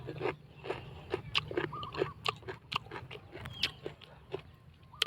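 Someone bites into and chews freshly picked fruit straight from the farm, with crisp crunching bites and wet chewing in a quick, uneven rhythm, close and fairly quiet, over a low outdoor background.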